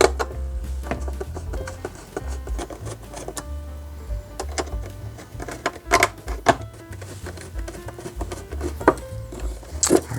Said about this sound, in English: We'll just take a few screws out here to lift it off.